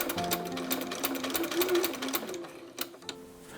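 A sewing machine stitches satin ribbon onto a corset in quick, rapid needle strokes, nearby and moderately loud, slowing and stopping near the end.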